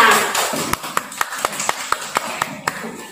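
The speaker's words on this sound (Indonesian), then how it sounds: "tepuk tangan untuk kelompok 5" A class applauds a student group, with about a dozen sharp, evenly spaced claps ringing out over a murmur of classroom voices and background chatter.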